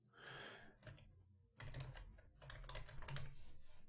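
Rapid keystrokes on a computer keyboard, typed in short bursts with a brief pause midway, close and fairly quiet, with no voices.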